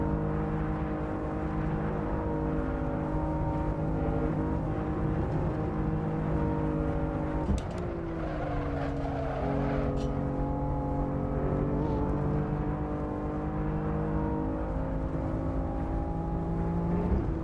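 BMW M4 racing car engine lapping the Nordschleife in Assetto Corsa, a loud, steady, close drone with shifting harmonics as the revs rise and fall, one brief dip near a gear change, no talking.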